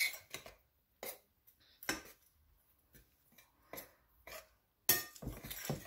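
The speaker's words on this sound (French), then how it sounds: "Hop, donc là on mélange tous les ingrédients secs." A spoon clinks and scrapes against a bowl while mixing dry ingredients for Liège waffles, in sparse irregular taps, some sharper than others, close and fairly quiet.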